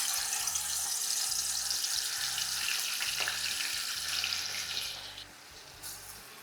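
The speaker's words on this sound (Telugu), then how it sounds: "పొయ్యి మీద నూనె వేడిగా ఉంది ఇంతకు ముందే నేను బ్రౌన్ ఆనియన్స్ వేయించిన నూనె ఇది సో చికెన్ని అందులో వేసి ఫ్రై చేసుకోవాలి" Chicken pieces fry in hot oil that was used earlier for browning onions, a continuous hissing sizzle with a low steady hum underneath that eases off near the end.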